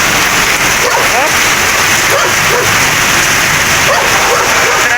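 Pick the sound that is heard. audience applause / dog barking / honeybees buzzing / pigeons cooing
dog barking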